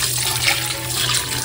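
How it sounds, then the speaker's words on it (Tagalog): Water being poured into a pot of crabs with a little salt before boiling, a steady, close, rushing splash of running water with no talking. "Lalagyan ko po ng tubig."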